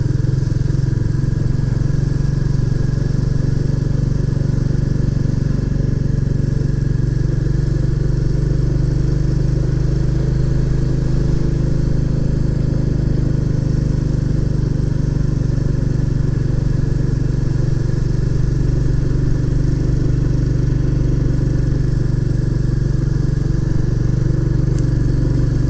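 Royal Enfield Classic 350 motorcycle climbing the steep Rosedale Chimney road, a steady, loud single-cylinder engine drone pulling continuously uphill close by.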